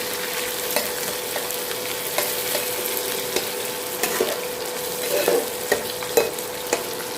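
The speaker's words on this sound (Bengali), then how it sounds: "ইন্ডাকশানে রান্না হচ্ছে" Food cooking on an induction stove at home, a steady soft sizzle with scattered light clicks and scrapes of stirring, moderately close and without talk.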